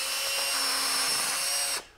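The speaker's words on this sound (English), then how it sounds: "I have on my drill, I have a speed one and a speed two." A power drill mixes epoxy resin for a wood floating shelf, giving a steady high motor whine at constant speed that cuts off abruptly near the end, leaving a brief fading tail.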